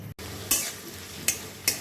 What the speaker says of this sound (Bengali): পেঁয়াজটা দিয়ে ভালো করে নেড়ে ছেড়ে অনেকটা বেশ ভাজা হবে